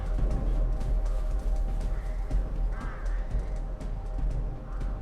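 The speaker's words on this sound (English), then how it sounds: "All the crows come up." Crows caw in scattered, harsh calls over a low rumbling background, fairly distant and intermittent.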